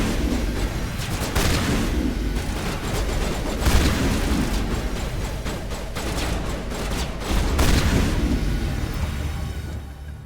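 A firefight in the video game Mass Effect: dense, continuous volleys of weapon fire and booming blasts, loud and close, hammering steadily for several seconds with heavier bursts mixed in.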